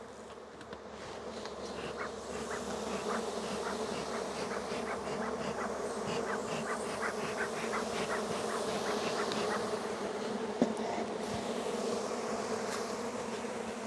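Honeybees swarm around an open hive in a steady, dense drone of overlapping buzzing that swells slightly throughout, with a faint knock partway through and no voices.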